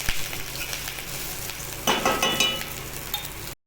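Ginger garlic paste frying with cinnamon and cardamom in hot oil for dudhi kofta, a close steady sizzle that swells into a brighter crackling burst partway through and then cuts off abruptly.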